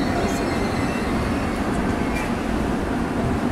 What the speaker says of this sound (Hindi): ये है कोझिकोड वंदे भारत एक्सप्रेस